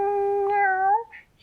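A single drawn-out cat meow, steady and tonal for about a second before trailing off with a falling pitch, close and fairly loud, followed by faint chirpy sounds.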